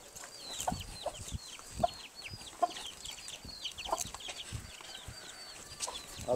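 Hens clucking and squawking in a riverside chicken coop, a busy overlapping chorus of short calls with occasional louder squawks and rustling, fairly close, no talk.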